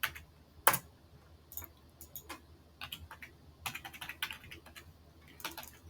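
Fingers tap at a computer keyboard, sounding as an irregular run of light, close clicks and a few sharper key strikes, separated by brief pauses in a quiet room.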